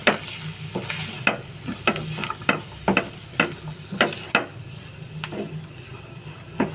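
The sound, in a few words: mixing potato filling with coriander leaves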